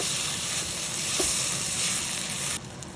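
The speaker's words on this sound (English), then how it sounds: "Stir everything well and sauté for another 2 to 3 minutes to let the spices blend in." Onions and spices, including garam masala, sizzle steadily in a hot pan as they sauté, a close, continuous frying hiss that drops slightly near the end.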